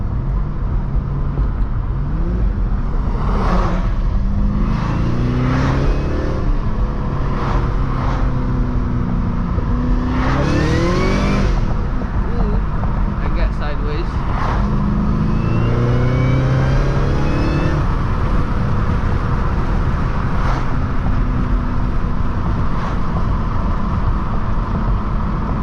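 Tuned Cadillac CTS-V pulling hard from inside the cabin, engine rising and falling through several gear changes under a constant loud roar, with a few brief crackling exhaust pops between pulls.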